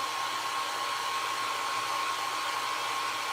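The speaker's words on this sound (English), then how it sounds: "I think it helps using the dryer on it." Steady, loud whoosh of a hair dryer blowing continuously on a craft project, even and unbroken with no talk over it.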